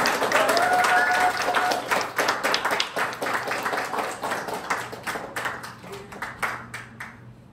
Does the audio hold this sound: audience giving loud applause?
yes